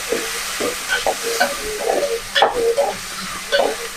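Tomatoes and turmeric fry in a hot pan with a loud, close sizzle, broken by bursts of spatula scraping and stirring.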